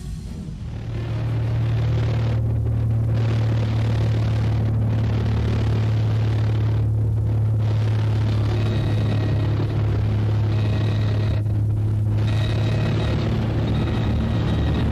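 A steady, droning light-airplane propeller engine hum holds a constant low pitch throughout, loud and close, with no voices.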